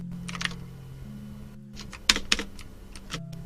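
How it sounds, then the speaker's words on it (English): Loud mechanical computer keyboard typing up close during a game stream, bursts of clacky keystrokes with a few sharp louder hits and brief pauses. "It didn't die, that's how loud my keyboard is."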